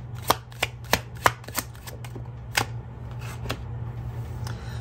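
A Twin Flame Untold Truths tarot deck is shuffled by hand close up, with a run of sharp riffling snaps followed by softer card rustling over a low steady hum.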